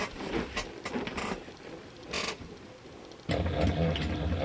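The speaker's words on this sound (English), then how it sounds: "I'm not sewing these clipped edges. I'm only sewing the top." A sewing machine stitches along the top edge of fabric, with faint mechanical rattling at first, then a louder, steady motorized whirr of stitching that starts abruptly near the end, nearby with no talking.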